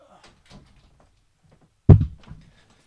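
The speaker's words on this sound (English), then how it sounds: "I got to close my door again." Door shut in a home, one solid thump with a brief rattle after quiet shuffling and faint handling noises.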